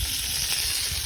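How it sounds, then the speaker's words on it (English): Food sizzles and crackles steadily on a grill at a caravan club site, a dense continuous hiss heard up close with no talking. "Whoa, look at the sizzle on that."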